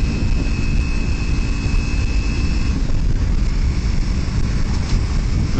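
Riding a Kawasaki Ninja 300 motorcycle with a passenger on the back produces a loud, constant roar of wind and engine drone close to the microphone, with no pauses.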